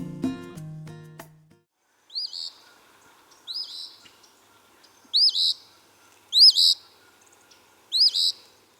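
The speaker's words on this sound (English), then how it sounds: "this story starts actually with the sound of a phoebe" A brief tonal note opens, then a phoebe gives repeated short, high chirped calls at intervals, clear and fairly close against a quiet background.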